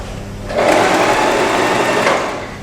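Sewing machine running a wide zigzag stitch while thread tension is being adjusted, a steady close whirring burst lasting about two seconds after a quiet start, with no talking.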